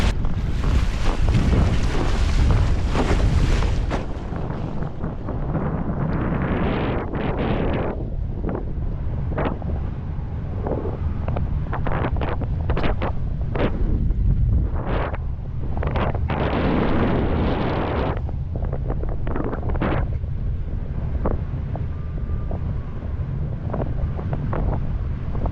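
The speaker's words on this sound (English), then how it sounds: "Now there's a lot of wind." Strong wind buffeting the microphone while sailing, a loud, constant roaring rush with gusting bursts and water noise beneath, steady throughout, with no talking.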